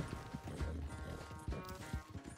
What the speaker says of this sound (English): we have not seen horse racing like this in years